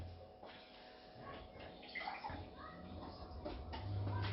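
Water is poured into maize flour dough for flatbread, a soft, close splashing trickle that swells slightly toward the end, with a faint voice underneath.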